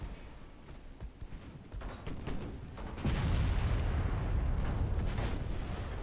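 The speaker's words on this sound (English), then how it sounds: "That was definitely a 13-inch hit." Heavy 13-inch naval shells from the Ultimate Admiral Dreadnoughts naval battle game strike home with rumbling booms, and the distant thuds build into a loud, sustained roar of explosions and rolling impact noise.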